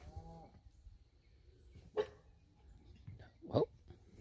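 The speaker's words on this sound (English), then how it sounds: "she's barking at something" A dog barks outdoors in two short, sharp yelps spaced apart, fairly close, with faint background ambience and a brief higher tonal call near the start.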